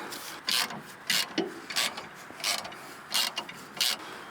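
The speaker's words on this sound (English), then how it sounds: "grab your bolt, slide him through, do him up nice and snug" A bolt is done up snug on a Gen Y van tow hitch, with short bursts of metallic ratcheting and rasping that come in irregular bursts, close by, separated by brief pauses.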